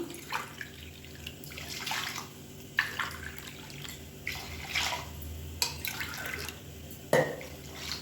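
Water poured from a tumbler into roasted varagu (kodo millet) rice in a cooking pot, heard as several separate bursts of pouring and splashing with short pauses between them, fairly close and moderately loud, with no talk.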